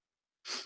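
A single sharp sneeze bursts out after a stretch of silence, loud and close, lasting under a third of a second, during a tabletop Dungeons and Dragons session.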